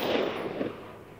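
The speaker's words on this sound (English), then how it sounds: "I'm getting ready to take my second shot. Let's go ahead and take it." A single rifle shot fired at night while sighting in a low-cost night vision scope for predator hunting, a broad, fairly loud blast that decays over about a second with no talk.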